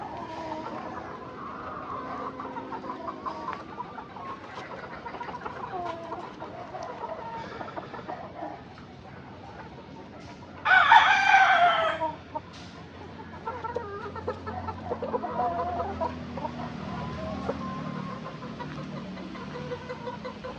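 Young gamecock stags at a game farm in Boso Boso, Rizal cluck and murmur steadily, with one loud rooster crow bursting out midway against the busy flock background.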